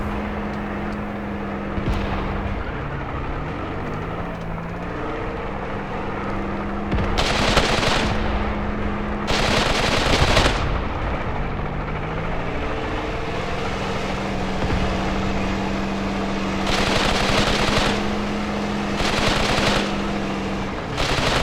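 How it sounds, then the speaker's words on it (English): Anti-tank gun firing in the Graviteam Tactics war game, with loud broadband bursts recurring every few seconds over a steady low engine drone and rumbling battlefield background. "And the gun is shooting."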